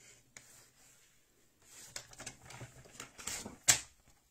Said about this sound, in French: Soit vous y allez directement au massicot comme je l'ai fait.